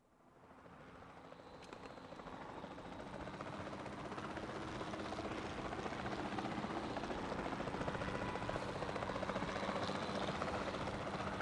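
A helicopter in Jurassic World Evolution 2 fades in and settles into a steady, whirring rotor and engine drone that holds at a constant level, heard alone without talk.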